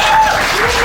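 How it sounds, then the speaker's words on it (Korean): A crowd at a crested gecko contest breaks into loud, dense applause, steady clapping filling the space with a few voices mixed in. "큰 박수 부탁드리겠습니다"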